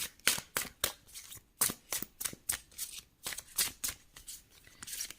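Tarot cards are shuffled close by in a rapid series of crisp riffles and flicks, each a sharp burst with a short gap between.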